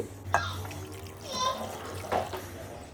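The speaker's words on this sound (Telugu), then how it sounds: "ఒక గ్లాస్ వాటర్ వేసి" A glass of water splashes into a baby food mixture in a pan, a short liquid pour with a voice and light background noise around it.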